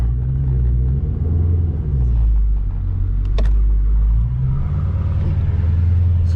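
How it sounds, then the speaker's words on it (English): A car turns around on a highway near Lexington, Kentucky, its engine a loud, steady low rumble heard from inside the vehicle, swelling slightly as it pulls through the turn, with a brief click midway. "We're making a U-turn on the highway"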